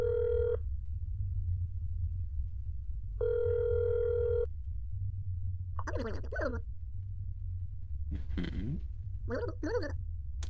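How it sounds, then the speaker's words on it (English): Telephone in the game That's Not My Neighbor, two electronic ring bursts a few seconds apart over a low ambient hum, followed by several short chirping game sounds. "Go ahead and ring the phone."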